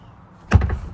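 A Toyota Tacoma TRD Pro truck door swings shut with a single dull thud that fails to latch, a short muffled impact after near silence.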